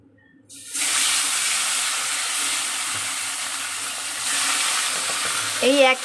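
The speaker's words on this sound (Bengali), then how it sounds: "এই একইভাবেই এই মাছগুলো ভেজে নেব" Fish frying in hot oil in a pan for a fish curry with eggplant and potato, a steady broad sizzle that swells partway through, close and loud, with a brief stir or clink near the end.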